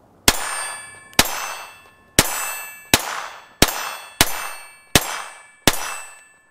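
A Kel-Tec P17 pistol's slide slams forward eight times in a steady sequence, each a sharp, ringing metallic clang that decays quickly, loud and close with quiet gaps between.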